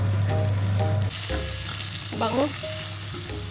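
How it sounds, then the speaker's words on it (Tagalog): Onion sautés in a pan for pork steak, a loud, steady sizzle of frying close up with a spoon stirring now and then, and a brief spoken word over it. "Saute natin yung ating onion"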